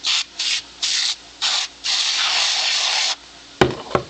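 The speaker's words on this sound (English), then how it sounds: "Take your cap off, lay it down, and spray it." Short hissing bursts of aerosol cleaner sprayed onto a nitro RC engine, then one long continuous spray, followed by a couple of sharp clunks as the can is set down.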